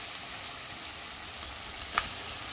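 Chicken leg pieces frying with tomato in a pan, a quiet steady sizzle with a single brief sharp tick partway through, close and alone without talk.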